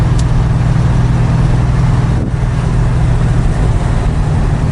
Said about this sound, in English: Car going down the road straight as can be.